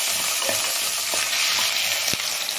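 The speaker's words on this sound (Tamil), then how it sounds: "இப்போ இஞ்சி பூண்டு சேர்த்துக்கிறேன்." Ginger and garlic fry in hot oil with onion and green chilli, a loud, continuous close-up sizzle broken by a few soft stirring knocks, with no voices.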